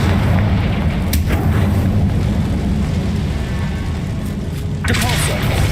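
A Confringo spell explosion in Hogwarts Legacy makes a dense rumbling blast over steady game noise, with sharp bursts flaring near the start and end.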